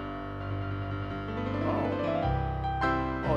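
An electronic organ voiced in the Mr. Showman piano style plays sustained chords with a shifting bass note, steady and moderately loud, heard alone without voices.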